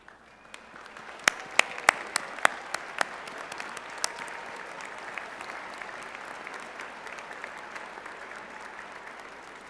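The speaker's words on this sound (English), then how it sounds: "please stand and we will applaud you" A commencement crowd at a Kutztown fall graduation applauds alumni who have stood up, a soft steady wash of distant clapping with a few sharper, nearer claps standing out early on.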